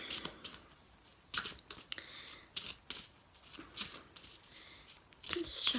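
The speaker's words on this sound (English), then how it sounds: "just shuffling the cards" A deck of cards is shuffled by hand in quick, crisp riffling bursts separated by short pauses, close and fairly quiet, with no talking.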